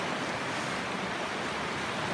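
Clear Creek at Whiskeytown streams past a sandbar, giving a steady, close rush of flowing water with no breaks and no voices.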